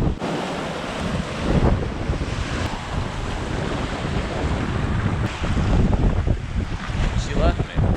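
Rough sea waves wash in at Starfish Point beach in the Cayman Islands, a continuous surf roar mixed with heavy wind buffeting the microphone, with no talk over it.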